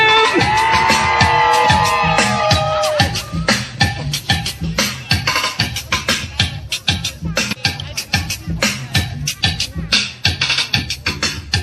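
Outdoor crowd at the Little Guyana Avenue naming ceremony screaming, whooping and cheering loudly, with sustained shouts at first giving way to scattered claps and yells.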